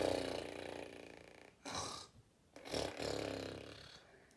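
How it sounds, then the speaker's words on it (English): A giant snores loudly in deep, rasping breaths, with a drawn-out rumble followed by two shorter snorts after brief pauses, heard fairly faint and alone. "he was fast asleep and snoring loudly"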